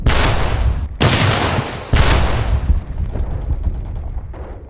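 Heavy gunfire erupts after a command to fire, with three loud, booming reports about a second apart, each followed by rumbling echoes, then a scatter of fainter distant shots as the sound decays.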